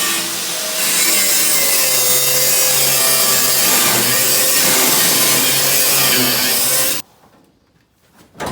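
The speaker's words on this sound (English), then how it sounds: "take that grinder and just grind right down to the bottom of there" Angle grinder cutting through the welds holding a replaced bedside on a square-body Chevy truck, a loud sustained abrasive whine for about seven seconds that stops abruptly, leaving near silence.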